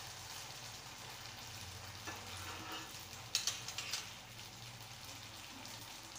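Malpua fry in a pan with a quiet, steady sizzle, close by, broken mid-way by a few sharp clinks and pops as the pieces are turned.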